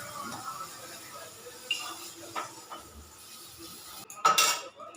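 Metal utensils clink and scrape against a pan as fried pointed gourd pieces are lifted out, a few sharp knocks over soft background sizzle and faint murmuring.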